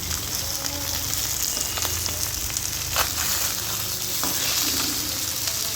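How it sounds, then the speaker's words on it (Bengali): Pabda fish fried a couple at a time in oil over low heat, giving a continuous close sizzle with scattered crackles and occasional scraping, no voices. "আমি একটু মাছগুলো অল্প অল্প আঁচে ভেজে নেবো একে একে।"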